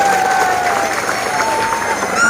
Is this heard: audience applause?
yes